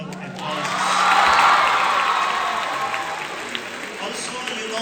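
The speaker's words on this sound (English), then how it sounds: "They deserve a big round of applause." A crowd applauds steadily at a medical college student ethnic day celebration, swelling to a peak then tapering slightly, with scattered cheers in a large, reverberant space.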